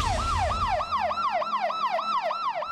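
An ambulance siren wails in a fast repeating rising-and-falling cycle, loud and close, while stuck in traffic on the EDSA busway, with low traffic rumble beneath it.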